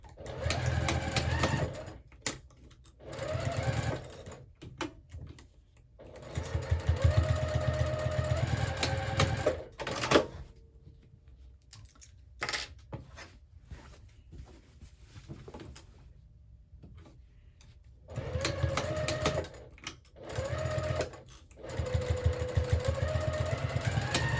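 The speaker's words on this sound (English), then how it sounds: "we're going to sew these at 3/8 inch seam allowance" A sewing machine stitches tote bag strips at a 3/8 inch seam in several bursts, each run of rapid whirring stopping and starting with quiet pauses and small handling clicks between.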